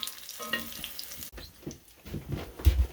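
Dandelion flowers fry in a pan with a soft crackling sizzle, gentle and close, punctuated by a couple of brief bumps and shuffles of the food.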